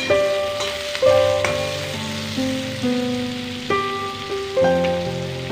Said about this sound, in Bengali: পেঁয়াজগুলো খুব ভালোভাবে ব্রাউন করে ভেজে নেব